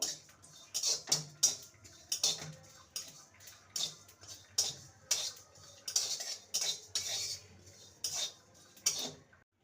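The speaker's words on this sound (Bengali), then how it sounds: "একটা এলাচ আর ওয়ান স্পুন মৌরি ভালো করে ভেজে নেবো" Whole cumin, cardamom and fennel seeds dry-roast in a pan while a utensil stirs them. It sounds like a regular run of about a dozen metallic clinks and scrapes over a faint hiss.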